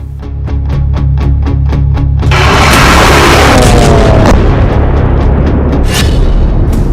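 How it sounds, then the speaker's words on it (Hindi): A ballistic missile strike explodes with a sudden heavy boom, followed by a long, loud, rumbling roar after a series of rhythmic pulses. "डिएगो गार्सिया बेस पर बैलिस्टिक मिसाइल से प्रहार।"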